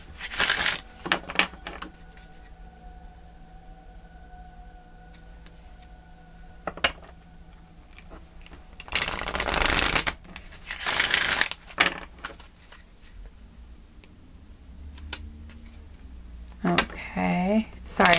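Playing cards being shuffled for a pick-a-card reading, long bursts of crisp riffling that come and go in loud clusters, with faint background sounds between them.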